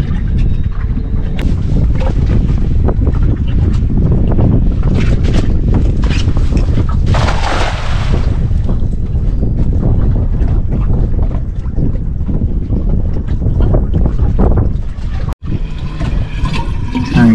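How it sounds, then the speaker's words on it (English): Strong wind buffeting a small fishing boat out on open water, a loud continuous rushing roar with gusty microphone rumble and splashing hull noise, steady throughout with a brief thump near the end. "Wind's starting to die down a little bit"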